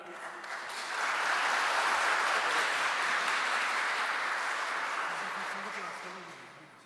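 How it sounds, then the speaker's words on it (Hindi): Hearty applause from a church community gathered for a Christmas celebration, swelling from a soft start into a broad, sustained roar of clapping, then tapering off gradually at the end. "सबकी ज़ोरदार तालियों में"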